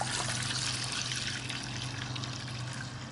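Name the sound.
filling a container with water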